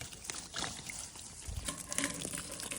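Water runs steadily from the discharge hose of a filter being backflushed, a continuous close trickling and splashing flow with no talk.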